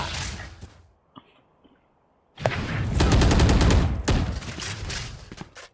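Video game gunfire: a short burst, a near-silent pause, then a long dense fusillade of rapid automatic shots, loud and close, easing off toward the end.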